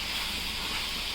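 Mushroom and masala paste frying in a pan, giving a steady, close, unbroken hiss of sizzling with no other sounds.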